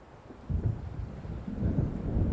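Low, rolling thunder rumbles from an approaching storm in the video game Alan Wake, swelling after a quiet start and continuing as a distant, growling roar.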